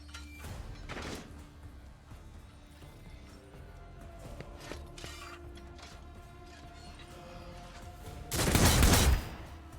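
Gunfire in the Warhammer 40,000: Rogue Trader game, with a short burst early on, scattered mechanical clatter and low rumble in the middle, then a loud, dense volley near the end, without talk.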